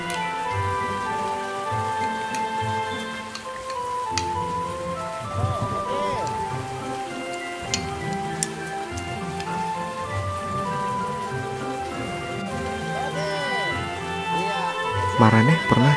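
Steady rain patters on surfaces through the whole stretch, a constant soft hiss beneath almost continuous conversation and other sounds at an outdoor spot where people are eating.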